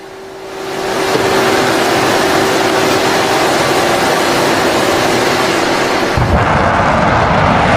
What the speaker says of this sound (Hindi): यह हिजबुल्लाह की मिसाइल है और ये मिसाइलें उसने इजराइल पर दागी।